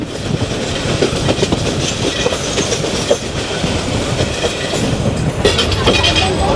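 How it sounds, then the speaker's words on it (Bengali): Titas Commuter train hauled by a 3500 series locomotive, running from Brahmanbaria toward Dhaka, with steady loud rail rumble and clickety-clack of wheels throughout, a few sharper clanks along the way. "পঁয়ত্রিশশো সিরিজের একটি লোকোমোটিভ নিয়ে ছুটে চলেছে তিতাস কমিউটার"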